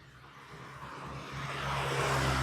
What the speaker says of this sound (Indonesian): Tuh suara motor. Kedengeran nggak?